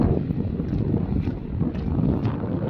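Strong wind buffets the microphone in a constant low roar, gusting steadily throughout with no voices.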